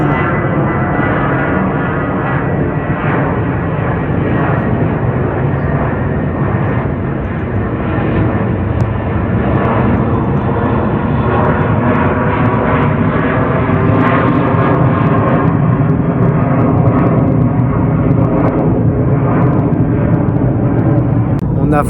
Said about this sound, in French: On a vraiment entendu l'avion passer juste au-dessus.